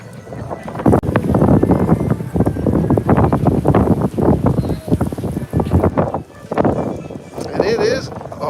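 Strong gusty wind buffets the microphone outdoors at a theme-park festival, a loud rumbling roar rising and falling in waves, with people talking under it.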